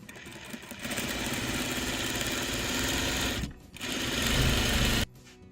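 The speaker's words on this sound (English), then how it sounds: "And then I'm just going to turn it around and stitch down the other side." A sewing machine stitches fabric for half-square-triangle quilt pieces with a steady, fast mechanical whir. The stitching stops briefly, then resumes at a similar pace before cutting off.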